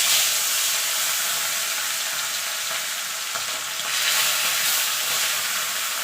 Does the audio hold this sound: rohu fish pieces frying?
yes